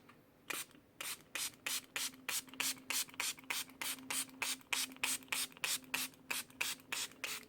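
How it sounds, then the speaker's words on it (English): A spray bottle of water pumped rapidly and repeatedly onto leather, about two dozen crisp, evenly spaced hissing spritzes in a steady rhythm, close up. "let's see how it holds up to being sprayed lightly with water"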